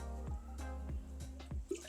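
Water trickles and drips into a pan of sugar for orange Karachi halwa, with a few distinct splashy drops in a quick uneven rhythm, close and fairly quiet.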